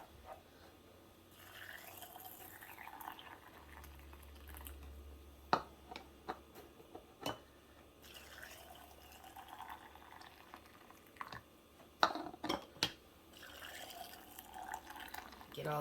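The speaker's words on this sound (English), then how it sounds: "Get all this water in here." Water pours into glass canning jars packed with chickpeas, a soft, quiet trickling and filling sound with small drips and occasional clinks, low and close.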